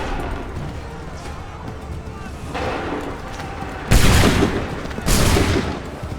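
Musket volleys ring out in the Assassin's Creed III video game: two loud, crackling bursts of massed gunfire close together over battlefield noise, with shouted commands around them.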